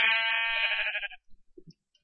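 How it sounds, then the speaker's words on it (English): Sheep in the Minecraft video game bleat in one sustained, harmonic-rich call lasting about a second, clear and fairly loud, followed by a few short, soft clicks and taps. "there are plenty of sheep to make bedding"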